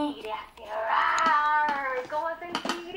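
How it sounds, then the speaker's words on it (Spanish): A kitten meows once in a long, drawn-out, rising and falling cry, fairly close and clear. A voice and light clinks of dishes or cutlery come and go around it. "Uy, qué lindo, un gatito"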